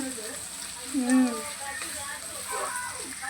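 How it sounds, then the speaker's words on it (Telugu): Ginger-garlic paste fries and is stirred in a pan, a steady, fairly quiet sizzle running under people talking throughout. "అల్లం ఎల్లిగడ్డ వేసి కలుపుతున్నావా?"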